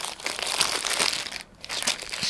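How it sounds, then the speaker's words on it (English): Cellophane wrapping crinkles loudly and closely as a large scented candle is unwrapped, a continuous rustle with one brief pause before it resumes. "Excuse the rustling, it's the cellophane."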